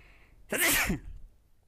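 One loud, close human sneeze with a sharp burst and a short trailing exhale, heard in a quiet indoor room during a language lesson.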